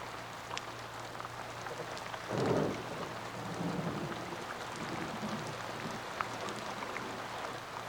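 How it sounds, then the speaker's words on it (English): Heavy rain pounds steadily on desert sand, a dense continuous hiss with a brief low rumble of thunder partway through, no voices. "Huge raindrops pound on the sand and awaken the toads in their sheltered hideouts."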